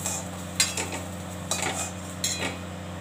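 Fried eggplant being mashed for bharta, with three sharp utensil knocks and scrapes against a dish spaced about a second apart over a low steady hum, no voices.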